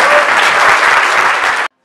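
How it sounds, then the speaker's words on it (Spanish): Loud, dense applause from a crowd of guests at a quinceañera celebration, steady and close, cutting off abruptly. "Fuertes aplausos."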